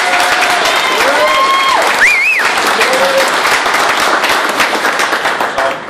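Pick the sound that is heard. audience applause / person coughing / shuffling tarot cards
audience applause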